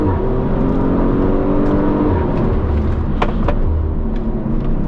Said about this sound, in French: T'entends le turbo vraiment qui souffle, tu vois. Et le petit V6 qui est boosté à bloc.